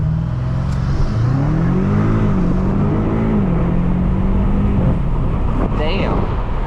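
A BMW M5 Competition accelerates hard, its engine note climbing and dropping through several gear shifts, loud and close inside the cabin with heavy road and wind noise.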